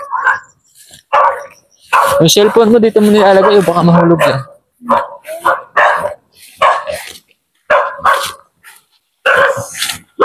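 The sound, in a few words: dogs barking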